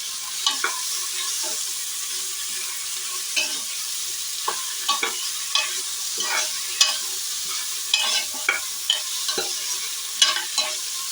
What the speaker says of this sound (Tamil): ஒரு ரெண்டரை தக்காளி கட் பண்ணி வச்சுருக்கேன் இப்போ ஆட் பண்ணிக்கலாம் நல்லா மிக்ஸ் பண்ணிக்கலாம்